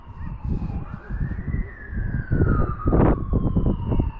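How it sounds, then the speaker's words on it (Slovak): An ambulance siren wails at a moderate distance, its tone sweeping up and down over the hum of traffic, heard from the top of a tall building in Martin, Slovakia. "OK, je to sanitka."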